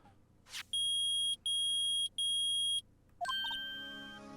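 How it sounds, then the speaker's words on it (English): Metal detector beeping in the Phoenix Wright: Ace Attorney video game: three loud, steady electronic beeps of equal length with short gaps, followed by a brighter chiming jingle that rings out and fades. "it's beeping. The metal detector found something."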